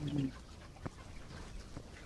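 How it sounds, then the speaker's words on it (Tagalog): A couple of quick chicken clucks at the start, then faint scattered clucks over quiet, low farmyard background noise. "Ayan guys, yung manok nila."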